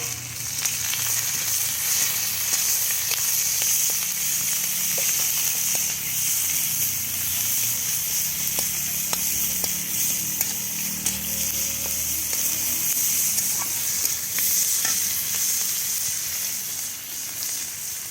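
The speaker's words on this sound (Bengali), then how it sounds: "এবার পেঁয়াজ দিয়ে দিচ্ছি।" Onions sizzle in hot oil with bay leaf, panch phoron and dried red chillies, cooking for a bottle gourd and prawn curry; a steady, close frying hiss runs the whole way with faint crackles and no talking.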